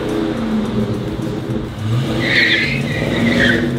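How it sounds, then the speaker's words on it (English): Car tires screech and skid over a steady, loud engine roar in a Roblox Jailbreak video game, with the squeal rising sharply partway through and continuing to the end. "Smoke those tires"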